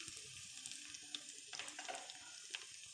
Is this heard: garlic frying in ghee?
yes